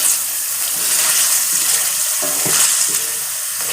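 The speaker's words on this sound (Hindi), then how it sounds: "तो अब मैं इसको फ्राई कर लूँ। तकरीबन 10 मिनट तक मैं इसको फ्राई करूँगी।" White beef korma with a pack of cream sizzles and bubbles loudly in a pan, a dense continuous frying hiss with stirring noises and no speech.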